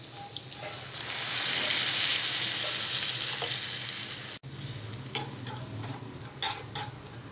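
Tomato paste for an egg curry fries in a pan with salt and chili while being stirred, with a steady loud sizzle that swells and then softens, followed by brief clatters and scraping near the end.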